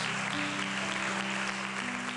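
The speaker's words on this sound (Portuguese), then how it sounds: "Aplauda ao Senhor." A church congregation applauding together, a dense, steady wash of clapping at moderate distance, continuous with no gaps and no voices standing out.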